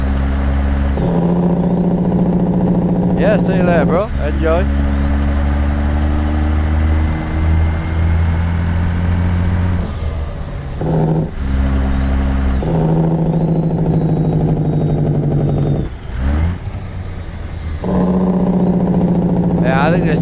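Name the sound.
Peterbilt 389 truck engine running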